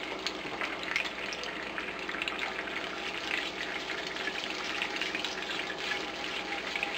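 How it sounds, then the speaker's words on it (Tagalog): Dry white wine poured into clam juice and stirred for shrimp scampi, a steady close rush of liquid with soft stirring under a continuous sizzling wash that holds even throughout. "ilalagay din natin tong dry white wine. At hahaluin lang natin."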